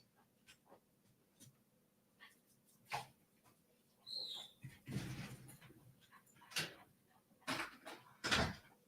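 Dogs at a house door wanting in and out make scratching, whimpering and bumping sounds, scattered irregular thumps and rustles at moderate distance, with one brief high whine in the middle.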